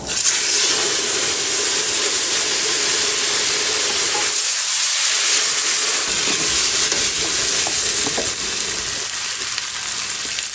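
Tomato sauce hitting a hot pan makes a loud, continuous sizzle, a steady hiss that carries on without pause.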